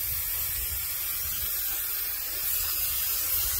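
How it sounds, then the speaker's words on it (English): Car maintenance soap sprayed from a foaming sprayer onto a 2022 Kia Carnival with a ceramic coating, a continuous close hiss that dips briefly before resuming. "I have some of the brand new Pro Special Reserve Signature Series maintenance soap in this foaming sprayer."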